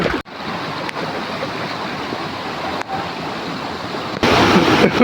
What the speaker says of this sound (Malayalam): ഈ വെള്ളച്ചാട്ടം ഒഴുകി വരുന്ന വെള്ളത്തിൽ കൂടെ വേണം അങ്ങോട്ട് പോകേണ്ടത്